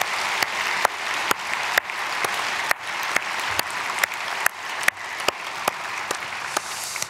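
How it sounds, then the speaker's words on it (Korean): A church congregation applauds during a Saturday dawn prayer service, a steady, dense patter of many hands that lasts for several seconds, with sharp louder claps standing out at regular intervals. "박수로 축복하겠습니다."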